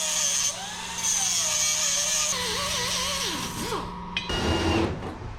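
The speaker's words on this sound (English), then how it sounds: "Gonna drill us a hole" A power drill runs steadily close by while drilling a hole in a metal battery tray, its whine sliding in pitch as load changes, then winding down before a short clatter.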